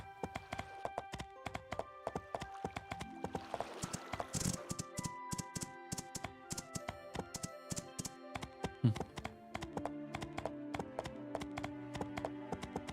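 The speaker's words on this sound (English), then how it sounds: "horse has almost enough stamina to fully run from there to here" Hoofbeats of a galloping horse in a survival crafting video game, a quiet, rapid, irregular stream of sharp clops and taps that continues throughout.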